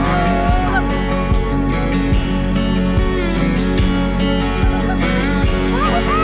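Canada geese honk loudly and continuously during a late-season goose hunt in Colorado, with a dense chorus of overlapping calls and some low thumps under it.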